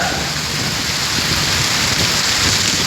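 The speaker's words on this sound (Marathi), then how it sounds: "हे बघ किती पाऊस पडला." Heavy first rain of the season pours down in a steady, loud, dense hiss that holds without a break for the whole stretch, with no voices over it.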